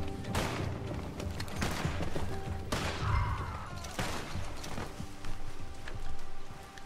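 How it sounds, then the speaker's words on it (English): Gunfire crackles through a Red Dead Online gunfight, with repeated loud shots and bursts layered over continuous game noise and what may be hoofbeats, the volleys spread irregularly across the scene. "Middle of a gunfight."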